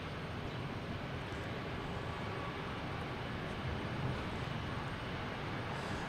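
Southwest and JetBlue airliners at Boston Logan Airport, a steady broadband jet engine roar, moderately loud and unbroken throughout, with no voices.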